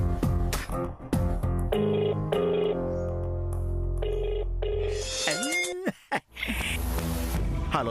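A phone rings out as a call is placed in a TV drama, with repeated bright ringing tones among layered musical score and effects, building to a sweeping electronic flourish at the end.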